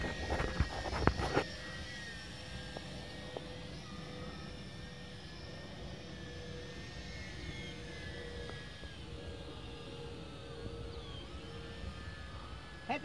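Tarantula X6 RC model airplane in flight, its electric motor a thin, distant whine that rises and falls faintly over steady outdoor background noise, with a couple of brief knocks early on.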